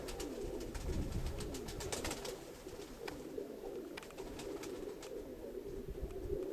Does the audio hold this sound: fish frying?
no